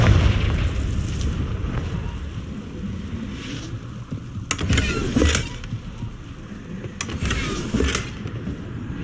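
The Confringo fire-blast spell in Hogwarts Legacy lands as booming explosions, two sharp bursts a few seconds apart, over a rumbling low game ambience.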